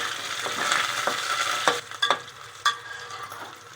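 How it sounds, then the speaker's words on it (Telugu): Curry leaves dropped into hot oil with cardamom for bagara rice, giving a steady sizzle and spit close by, with a few sharp crackling bursts in the middle. "ఇగో కరివేపాకు వేసుకోవాలండి ఇలా వేసుకోవాలి"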